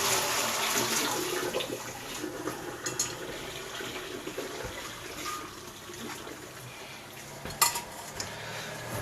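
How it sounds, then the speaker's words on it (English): Pasta water pouring out into a kitchen sink, a steady broadband rush of running water with a few clinks of pot or colander against the sink, loudest at the start and easing slightly toward the end, no talking. "Then I'll drain the pasta."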